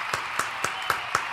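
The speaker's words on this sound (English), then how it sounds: "We got to give a round of applause." Short canned applause effect dropped into a livestream, with five sharp clap-like bursts evenly spaced over a steady hiss of crowd noise, moderately loud and with no talk over it.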